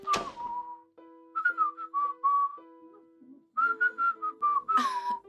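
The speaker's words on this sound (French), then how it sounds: "Ok, pourquoi est-ce que tu sifflotes?" Someone whistles a cheerful, lilting tune in short bursts of notes with pauses between phrases, close and clear, with no talking.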